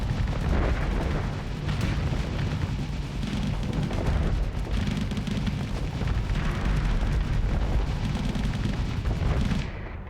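Constant rumbling fire-support explosions and booms in the modded space combat game Starsector, dense, loud and continuous, with no talk.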